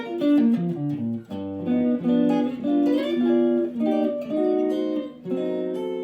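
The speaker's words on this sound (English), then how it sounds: "I'm going to play my nylon big stubby first." Solid-body electric guitar picked with a nylon Big Stubby pick for a warm jazz tone, a mellow run of single notes and chords, close and steady with brief dips between phrases.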